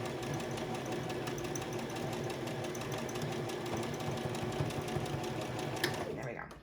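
A sewing machine runs steadily through a homemade fabric face mask, a continuous close whirring buzz stitching to the edge and back-stitching, slowing at the very end.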